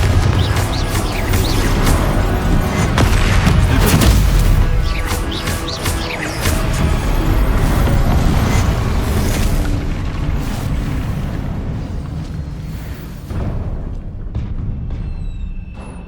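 A Confringo fire spell explosion in the video game Hogwarts Legacy, a loud booming blast with crashing debris and rumble that slowly fades out over several seconds.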